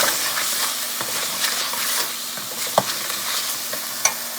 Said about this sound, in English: saute it